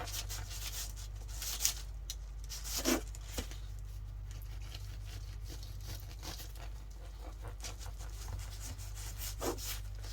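A knife sawing through a soft homemade brioche bun, giving a quiet scratchy rubbing rasp with a few light crumbly ticks, all over a constant low electrical hum.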